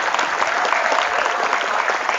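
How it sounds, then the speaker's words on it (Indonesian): Schoolchildren at a Maulid gathering at a junior high school clap together, a close, bright burst of many small hands that stays dense and steady for about two seconds. "Anak-anak pakai tepuk tangan sih."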